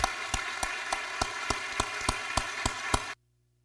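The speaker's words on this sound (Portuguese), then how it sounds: "E eu pediria uma grande salva de palmas para todos aqueles que na história tiveram a coragem de não desistir das suas crenças" Rhythmic applause at a commemorative event honouring those who kept their beliefs, heard as evenly spaced sharp claps over a steady humming tone, stopping abruptly after about three seconds.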